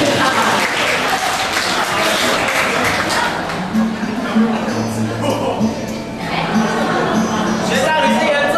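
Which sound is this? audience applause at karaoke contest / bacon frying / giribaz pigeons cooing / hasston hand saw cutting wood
audience applause at karaoke contest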